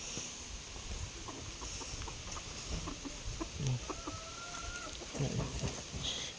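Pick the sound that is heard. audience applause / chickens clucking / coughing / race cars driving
chickens clucking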